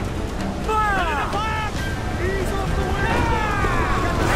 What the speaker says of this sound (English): Dude, we got a water spout coming right at us!